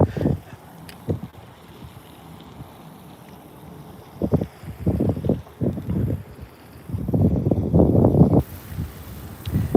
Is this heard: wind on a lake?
yes